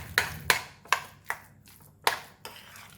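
A spoon knocks against a bowl while mixing egg mayo filling, giving about seven sharp, evenly spaced taps, close and clear with no talk.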